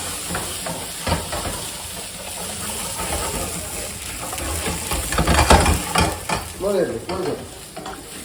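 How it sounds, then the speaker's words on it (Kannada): A spice paste heated with pure ghee for Kundapura chicken sukka sizzles and hisses in a pan while a spoon scrapes and stirs, the frying growing louder and busier midway. "ಈಗ ಇದು ಸ್ವಲ್ಪ ಬಿಸಿ ಮಾಡ್ತಾ ಇದ್ದೇನೆ ಚೂರು ಮಿಕ್ಸ್ ಮಾಡಬೇಕು ಪ್ಯೂರ್ ತುಪ್ಪದೊಂದಿಗೆ ಮಿಕ್ಸ್ ಮಾಡಿ"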